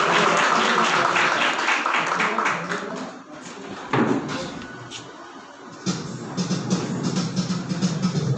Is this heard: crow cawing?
no